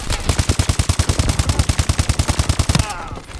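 AK-12 rifle fire in a video game: a loud, rapid automatic burst of evenly spaced shots lasting nearly three seconds, then an abrupt stop.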